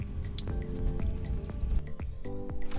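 Hot water poured from a kettle into a cup of ginger herbal tea, with soft trickles, drips and rising gurgles over about three seconds, fairly quiet and close.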